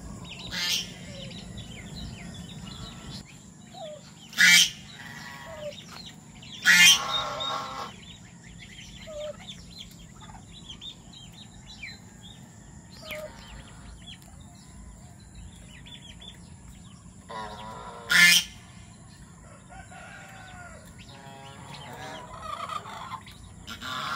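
Scattered duck quacks and calls sound over a steady outdoor farm background, with a few sharp loud bursts breaking through.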